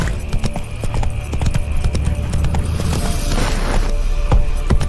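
Hooves of the horse Roach from The Witcher 3 clip-clopping at speed in a steady, close rhythm, with a few sharper thumps over a low rumbling background.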